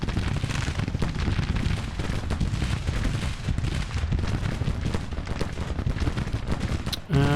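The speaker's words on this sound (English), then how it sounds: "Doesn't look like his cannons are actually firing. Oh no, they are." Cannons fire in the Grand Tactician strategy game during a Confederate cavalry campaign battle, a dense, continuous barrage of overlapping booms and crackling volleys that runs for over seven seconds, loud and without talk.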